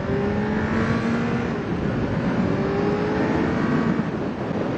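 A Kawasaki Z900 motorcycle engine revs on a road ride, a steady loud drone with slowly rising pitch and rushing wind, no voices.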